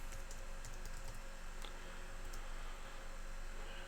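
Someone types a password on a computer keyboard, a few soft scattered key taps over a quiet background hiss, close but faint, with no voices.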